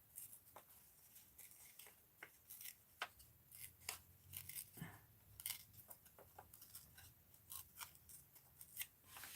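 Scissors snip around a paper cutout from a comic Valentine in a series of quick, close, irregular crisp cuts, with light paper rustling between the snips.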